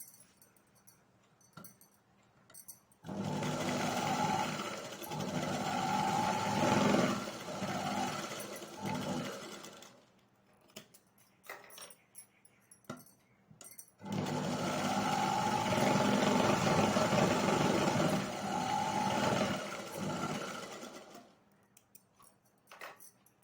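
An ordinary sewing machine stitching embroidery lines, running in two long steady bursts of rapid whirring separated by a pause filled with faint handling noises.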